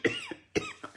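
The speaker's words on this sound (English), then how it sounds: "I don't know why I'm coughing." Two quick, close coughs, each a sharp burst followed by a softer trailing hack, with a short pause between them.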